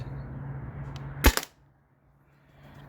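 A modified Byrna TCR launcher fires once through a chronograph, a single sharp loud pop over a steady hiss, followed by near silence.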